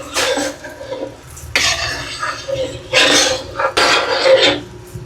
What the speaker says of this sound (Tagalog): Pwede na pong haluin.